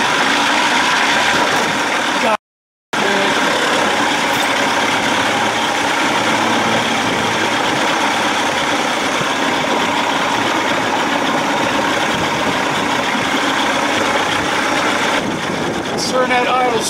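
A 1979 Evinrude 55 hp outboard motor idling steadily and loudly for the whole stretch, with one brief dropout near the start and no talk.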